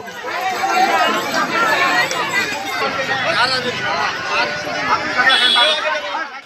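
A dense crowd of Shia and Sunni Urdu-speaking mourners packs an imambara in Khalishpur during Muharram, their voices merging into a steady, close babble of overlapping chatter that never pauses.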